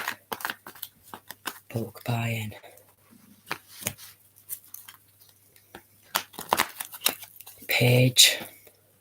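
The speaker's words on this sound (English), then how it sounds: "give them a good shuffle" Tarot cards shuffled by hand in two brisk, rustling bursts, separated by scattered light clicks and taps with soft voice sounds nearby.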